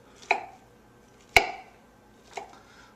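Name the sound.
knife cutting herb butter medallions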